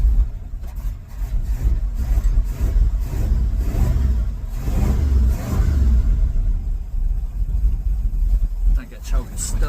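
A Ford F350 dump truck engine with a stuck choke runs in a rough, loud, uneven rumble that fluctuates throughout, with people talking over it.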